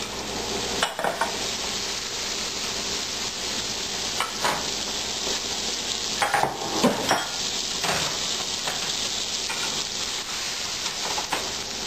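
Butter sizzles in a pan as green eggs with broccoli are scrambled, a steady frying hiss broken by a spatula scraping and tapping against the pan, close and clear with no talking.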